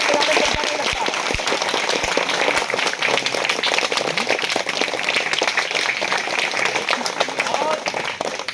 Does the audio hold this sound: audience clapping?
yes